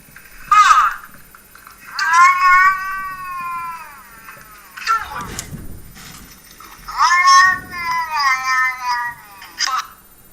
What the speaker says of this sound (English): this motherfucking cat who's possessed by Satan